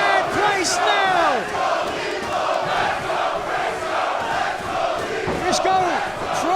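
A large crowd at a Ring of Honor professional wrestling match roars and chants loudly throughout, with rising shouts and bursts of cheering filling the arena.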